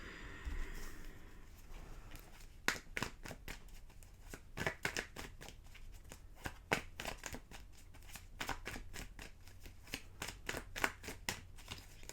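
Tarot cards being shuffled by hand, a long run of crisp riffling bursts and soft slaps in irregular rhythm, close and fairly quiet, with no speech.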